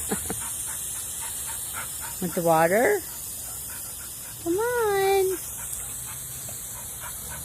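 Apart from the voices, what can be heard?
dog panting and barking while playing with a hose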